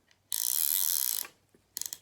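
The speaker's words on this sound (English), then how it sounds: "they have the most beautiful ratchet sound to them" Fishing reel ratchet on a cane rod setup clicking as a fish takes line, a close, loud rapid buzzing click run of about a second, then a brief burst of separate clicks.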